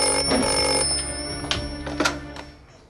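A telephone rings indoors in a family home, a steady bright ringing tone that runs through the first second or so, then fades into quieter household sounds with a few short knocks.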